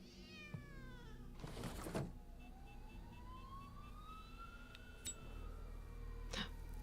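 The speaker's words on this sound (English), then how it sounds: "I think we've got a cat." A cat meows a few times, rising and falling, against a steady background hum with a distant siren-like wail.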